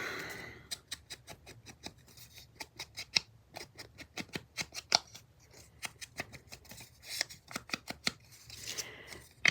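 Scissors snip through two layers of paper for a Christmas journal craft, a quick irregular series of crisp cuts and rustling, close and fairly quiet, with no talking.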